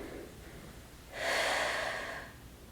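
One deep inhale during a mat workout, a close, airy breath lasting about a second after a softer breath at the start.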